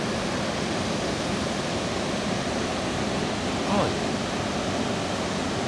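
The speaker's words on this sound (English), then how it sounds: "Here we see a waterfall." Steady, even rush of falling water, a waterfall at Warwick Castle in December, its constant hiss filling the whole stretch with no pauses, a brief faint voice-like blip partway through.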